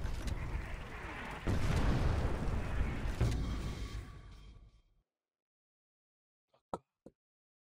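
Cannon fire in the Far Cry 4 game: heavy booming blasts and rumbling impacts roll continuously before cutting to silence, followed by two faint distant thuds.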